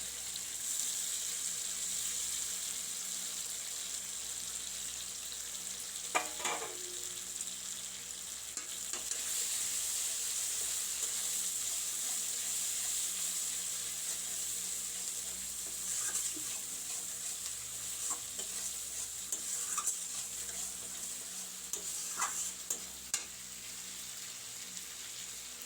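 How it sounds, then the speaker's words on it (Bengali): Ginger, cashew, melon seed and poppy seed paste sizzles softly in hot oil, a continuous hiss with a few scattered utensil taps and scrapes, fairly quiet and without voices. "এটা আমি দিয়ে এবার কষাবো"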